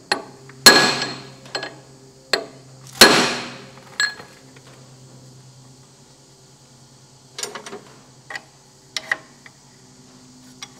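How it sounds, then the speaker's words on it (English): Heavy club hammer blows ring out on a Massey Ferguson 20 tractor's steering parts: two loud strikes, then a lighter tap and a few scattered small clinks and knocks in a quiet space. "if I get my big club hammer once more and come in through here"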